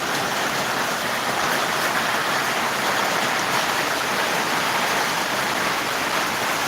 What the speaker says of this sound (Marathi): पाऊस पडत आहे पाण्याचा लोट वाहत आहे